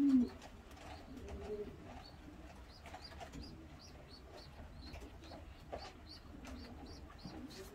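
Pigeons in a racing pigeon loft coo softly and repeatedly, a low steady murmur of several birds close by with no talking.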